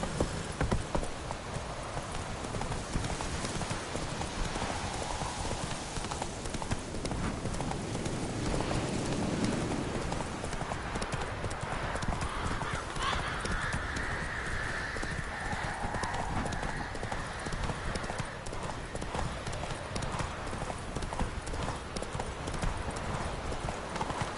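In The Witcher III, a horse gallops with rapid rhythmic clip-clop hoofbeats that continue throughout, joined by a neigh and faint game sounds in the background.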